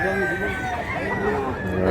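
Young bullstag roosters clucking and calling close by in a steady flock din, with a person talking over them.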